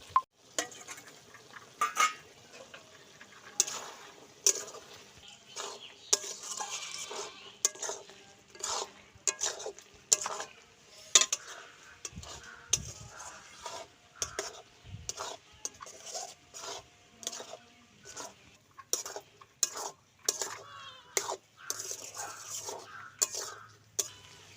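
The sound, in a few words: stirring small fish into taro stolon curry in pan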